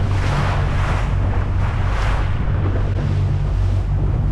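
A fishing boat cruises over open water early in the morning, a steady loud rush of engine, hull and wind noise with no pauses.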